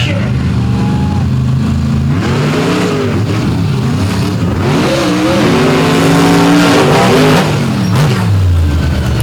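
Drag race cars at a night event in Benson, North Carolina roar off the starting line, loud engine revs rising and falling in repeated bursts with a continuous heavy rumble throughout.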